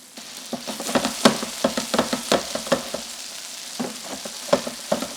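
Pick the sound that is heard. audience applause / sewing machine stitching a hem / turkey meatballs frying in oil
turkey meatballs frying in oil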